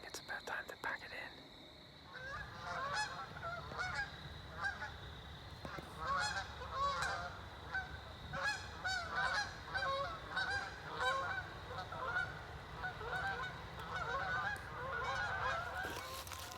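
Many geese honk repeatedly in a noisy, overlapping chorus, moderately distant, rising and falling over a soft outdoor background.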